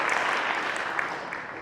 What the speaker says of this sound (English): so I think she deserves a big round of applause